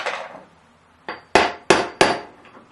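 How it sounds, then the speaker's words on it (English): Hammer knocking a socket down onto a fitting, several sharp metallic-wooden blows: one lighter tap followed by three loud, evenly spaced strikes, close and alone. "Keep knocking that basically until it stops."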